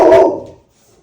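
A dog indoors lets out a single loud, close bark that fades quickly into quiet.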